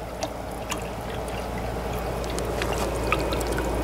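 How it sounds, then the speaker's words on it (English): Water drains from a gold-mining classifier screen tank into a bucket, a continuous trickling pour with small drips and splashes, close and steady, with no talking. "Draining into that bucket there"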